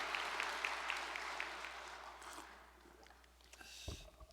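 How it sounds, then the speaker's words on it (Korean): Applause from a gathered audience at a peace-themed lecture, fairly faint and distant, with a soft rattle of clapping that gradually fades out, followed by a brief thump near the end. "다시 한번 우리 감사의 박수를 드리겠습니다"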